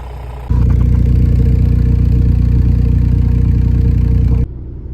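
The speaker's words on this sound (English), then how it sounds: "starting my car up at 3 a.m. in the morning" A car engine, set up for rolling coal, fires up at night and holds a loud, steady rumbling idle right up close before cutting off abruptly near the end, with no talking.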